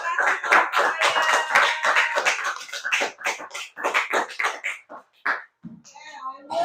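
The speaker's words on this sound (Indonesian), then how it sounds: "ayo kita kasih tepuk" A classroom group of teachers in training claps together in a chanted rhythmic cheer, quick hand claps mixed with voices calling along, then tapering into brief talk.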